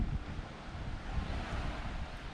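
Sea waves washing into a small rocky beach bay in Cyprus, a continuous broad rushing wash mixed with heavy wind buffeting the microphone, steady and fairly loud with no voices.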